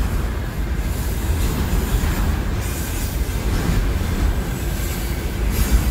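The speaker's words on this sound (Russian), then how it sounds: "Обычно локомотив проходит станцию где-то за минуту." A freight locomotive hauling a long train of container wagons rolls through a station, a loud, continuous rumble of wheels on rail with dense rattling and faint squeals, steady and close throughout.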